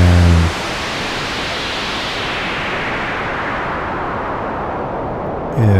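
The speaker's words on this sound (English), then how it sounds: "we can add white noise. Until it becomes just noise," A Neutral Labs Elmyra 2 drone synthesizer blends into loud, steady white noise that hisses evenly like rushing wind, with a tonal drone briefly audible at the start and end.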